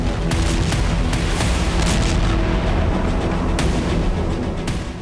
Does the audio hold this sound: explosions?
yes